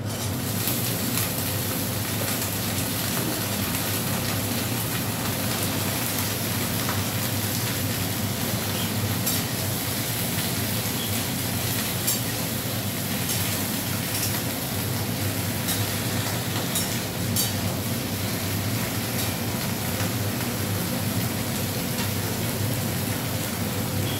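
Okra and potatoes frying in hot oil in a home kitchen, giving a steady, dense sizzle that holds unbroken and fairly loud with no talking.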